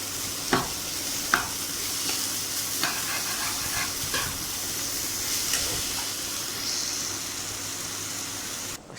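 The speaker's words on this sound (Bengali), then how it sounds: "দিয়ে আবারও ভালো করে এটাকে ভাজা ভাজা করলাম।" Potato curry being stir-fried in a pan, a continuous hissing sizzle broken by occasional scrapes and knocks of a spatula against the pan.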